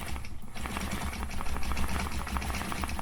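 A sewing machine runs steadily, stitching along a quilt border with a fast, even mechanical whir throughout, loud and close, with no talking.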